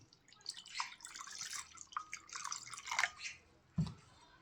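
Water splashes and drips as sesame seeds are rinsed by hand to wash off surface dust, with irregular close trickles and a louder splash near the end.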